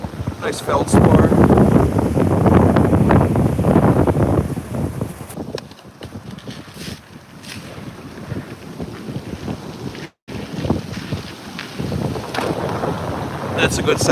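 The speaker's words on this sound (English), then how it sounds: "The water pulling back off the rocks." Ocean water washing and pulling back off the rocks of a beach, a loud, steady rushing wash in gusty wind, easing partway through and then swelling again.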